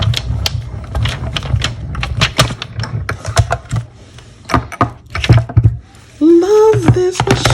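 Stampin' Up Mini Cut and Emboss machine cranked to emboss paper, a run of sharp, uneven clicks and knocks close up, with a short squeaky scrape near the end.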